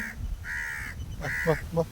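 A crow caws from close by, giving four or five harsh, nasal calls in short bursts with brief gaps between them and little else underneath.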